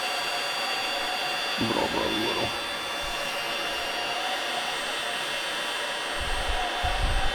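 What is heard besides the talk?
heat gun heating plastic boat locker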